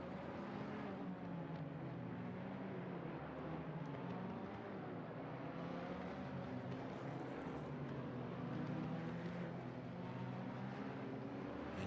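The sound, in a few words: race car engines revving on start grid, Assetto Corsa Competizione video game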